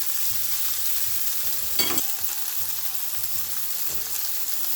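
Chicken pieces brown in a frying pan for a low-carb stir fry, sending up a loud, steady sizzle with a brief burst of crackle partway through and no one talking.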